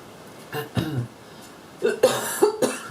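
A person coughs a few times in close succession while working at a craft table, short sharp bursts near the microphone, preceded by a couple of softer throat sounds.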